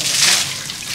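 A faucet runs water during a child's bath at home, a steady close hiss of flowing, splashing water filling the whole moment.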